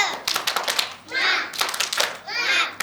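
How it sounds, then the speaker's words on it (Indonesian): Kindergarten children chant and clap a rhythmic spirit clap in class, bursts of young voices with patterned hand claps in three short phrases, loud and close. "coba tepuk semangat"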